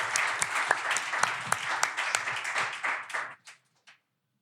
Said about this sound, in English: So can we just give them a round of applause for that?